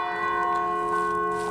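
A church bell in Skopje rings with a steady, sustained metallic tone and layered overtones, heard alone at moderate level for a brief moment.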